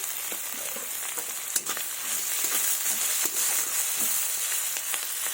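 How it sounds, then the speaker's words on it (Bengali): Chopped onions fry in oil with a little salt, making a continuous close sizzle and hiss, broken by soft crackles and a few stirring scrapes. No one speaks. "এবার পেঁয়াজ কুচিটাকে ভালো করে ভেজে নেব"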